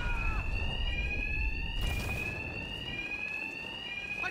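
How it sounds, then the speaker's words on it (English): A bank alarm rings in the video game Batman Arkham Knight, a loud, steady, continuous electronic tone sounding throughout with a few brief thuds and scuffles underneath. "these thugs can't hear a thing over the alarms"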